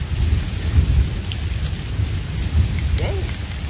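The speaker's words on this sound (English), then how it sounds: "In the rain." Steady rain pours down with low rumbling thunder rolling underneath while a person is out bullhead fishing, a continuous close wash of drops filling the whole stretch.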